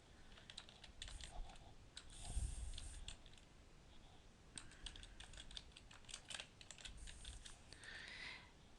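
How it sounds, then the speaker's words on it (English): Rapid typing on a computer keyboard, close and clear, with irregular bursts of key clicks and brief pauses between them, continuing throughout at moderate loudness. "Let's type this one in for you."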